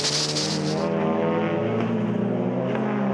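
A GTC race car roars past on the track at Killarney Raceway in Cape Town, a loud sustained engine drone with steady harmonic pitch, and a brief windy hiss fading after the first second.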